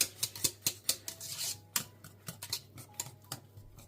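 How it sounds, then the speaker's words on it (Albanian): A spoon scrapes and clinks around a pot of thickening custard cream for baklava, a quick run of sharp metallic taps and scrapes, close and fairly loud, with no voices. "Por ju lutem qëndroni afër, sepse mishestja din që të ngjitet shumë shpejt, përzijene pa ndërprerje"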